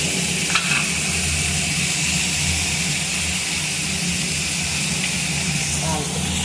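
Ivy gourd (dondakaya) fry sizzling steadily in oil in a pan while being stirred, a constant close hiss and crackle with faint scraping, no talk over it.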